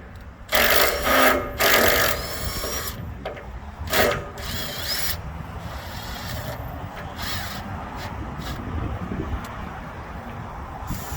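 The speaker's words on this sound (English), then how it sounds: "I'll just go ahead and drill a hole a little bit bigger" A power drill drives self-cutting screws during flag and decal installation. A few loud whirring bursts come in the first seconds, then a steady, fainter background hum.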